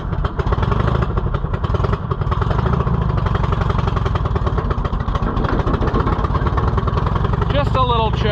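An old Cushman utility vehicle engine runs steadily on a cold day, a loud, continuous mid-pitched chugging with clattery texture throughout, and a person speaks briefly over it near the end.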